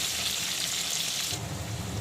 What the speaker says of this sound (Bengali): আঁচটা কিন্তু অবশ্যই ফুল ফ্লেমে রাখতে হবে, যেহেতু আলুর পরিমাণটা বেশি, আর সবথেকে বড় কথা আলুটা যাতে খুব সুন্দর করে ভাজা হয়।